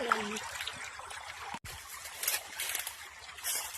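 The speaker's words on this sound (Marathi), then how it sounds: "मस्त पाणी चाललंय, त्याच्यात थंड थंड चाललंय, लई स्वच्छ पण पाणी आहे." Clean, cold water runs through a small stream on a farm, a soft, close trickling and gurgling flow that continues steadily, briefly interrupted once, with no talking.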